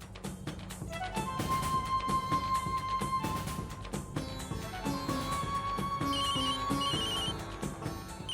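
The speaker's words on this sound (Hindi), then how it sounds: "अक्षरा का फोन है, हैंड्स फ्री पे डालता हूँ" A melodic phone ringtone plays continuously, a musical tune with repeating notes and beats, moderately loud and close.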